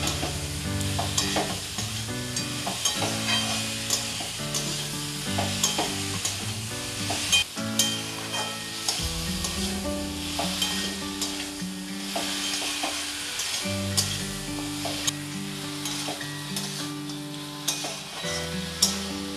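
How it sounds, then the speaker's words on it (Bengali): Crab curry with potato and ash gourd fries in a pan with a constant sizzle, while repeated scraping and clinking of a spatula stirs the mix, under background music and no speech. "আমি সমস্ত কিছু একসাথে আবারও ভালো করে মিশিয়ে কষে নেব।"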